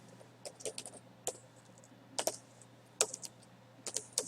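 Someone types on a computer keyboard while entering form data, producing several short bursts of close, crisp key clicks separated by brief pauses, with no voice over them.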